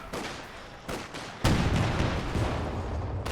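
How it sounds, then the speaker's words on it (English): Rifle grenade fire in a real-time strategy game battle: a few sharp, loud blasts, the strongest midway, followed by rumbling gunfire and battle noise. "Rifle grenade forcing the retreat"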